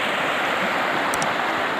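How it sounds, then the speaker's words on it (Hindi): Rushing floodwater courses through a village stream during a flash flood, a loud, unbroken churning roar with two short faint high clicks near the end. "देखें ना आप वहाँ से पानी कितना आ रहा है"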